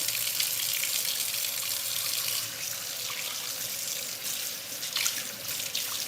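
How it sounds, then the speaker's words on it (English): A kitchen tap runs steadily for hand washing during chicken and rice prep, a continuous close hiss of water with a slight shift midway and no talking. "So I'm gonna wash my hands real quick."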